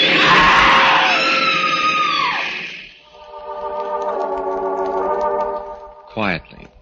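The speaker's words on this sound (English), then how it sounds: "The woman screams." A woman's scream in a radio drama, set on a train platform as a train grinds to a stop: a loud, sustained shriek that breaks off, followed by a tonal grinding hum and a short sharp burst near the end.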